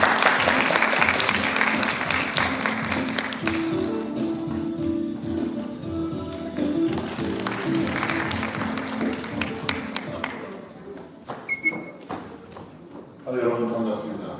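An audience at a student mock-parliament event welcomes the alumni association president with steady, full applause. It fades toward the end, with a brief tone and some handling noise near the close.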